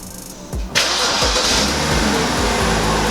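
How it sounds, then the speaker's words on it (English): A car engine cranks briefly, catches, then settles into a steady running rumble, close by and loud, with no talking. "my brother's starting up the car now"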